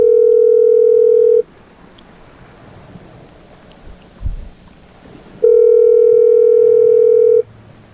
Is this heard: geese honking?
no